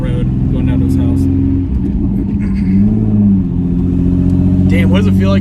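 A turbocharged V6 Mustang engine drones loudly from inside the car, its pitch swelling as it accelerates, while people talk over the steady rumble.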